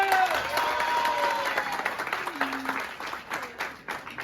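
A theater audience applauds Meera Jasmine on her surprise visit to a screening of Paalum Pazhavum, a dense, continuous roar of clapping with some voices and cheers mixed in.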